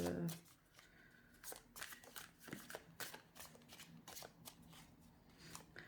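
Oracle cards shuffled by hand in quick repeated riffles and slides, a steady soft flutter of card stock, faint and close, with a short voice at the start.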